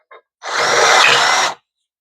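A power drill fitted with a cheap bit from a budget set whirs loudly and close for about a second in one steady burst, after a tiny click, with no talk.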